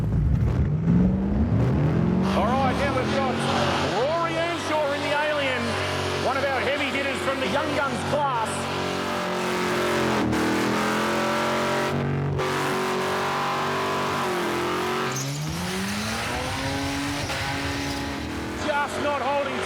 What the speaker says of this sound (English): just not holding top gear and top revs at the moment to get that absolute bulk smoke volume